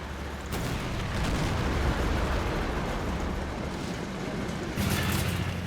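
Heavy Brummbär assault guns in the Men of War: Assault Squad 2 battle game keep up a dense, continuous roar of booming fire, with sharper blasts at the start and near the end of the stretch.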